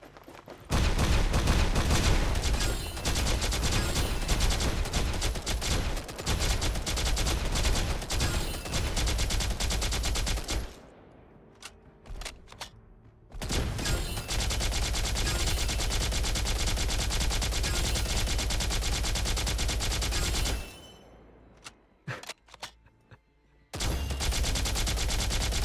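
Sustained automatic gunfire in Girls' Frontline 2, dense rapid bursts that run loud and steady, broken by two short pauses filled with scattered single shots before the firing resumes.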